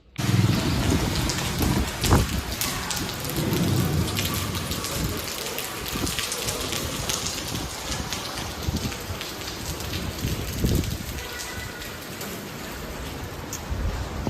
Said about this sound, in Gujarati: આજે તો આખો દિવસ વરસાદ ચાલુ હતો